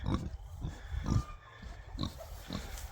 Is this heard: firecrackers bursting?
no